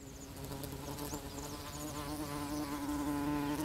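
Long-tongued Nemestrinidae flies buzz steadily while pollinating flowers in Namaqualand, a close, continuous droning hum with no voices.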